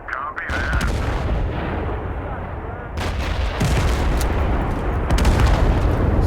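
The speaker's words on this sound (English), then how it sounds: "Call back in a artillery. Call it right here." Artillery strike called in during a Total Conflict: Resistance match, heard as dense, continuous booming and rumbling gunfire with sharp bursts throughout, loud and sustained.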